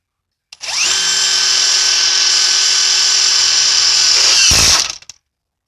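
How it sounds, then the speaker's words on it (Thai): An AEG impact wrench with a number 8 socket runs in auto mode, driving a self-drilling screw: a loud, steady high-pitched whine held for about four seconds, ending in a brief burst as it stops at 200 newton-metres of torque. "เดี๋ยวผมจะใช้บล็อกเบอร์8ยิงโหมดออโต้นะครับยิงน็อตปลายสว่าง"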